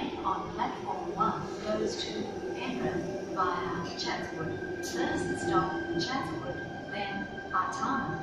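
A Sydney train pulls into platform one of a station on the Epping to Chatswood line, a steady rumble and rolling hum with voices talking over it throughout.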